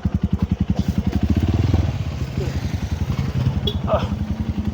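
A motorcycle engine putters close by with a rapid, steady pulsing beat, rising slightly as it passes, with voices speaking over it.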